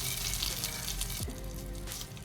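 Curry leaves sizzling in hot oil while tempering for avial, a close, steady hiss and crackle that softens slightly toward the end.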